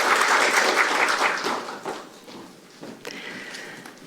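An audience at a parliamentary maritime forum gives a round of applause, dense clapping that fades after a couple of seconds into scattered claps and a brief rustle.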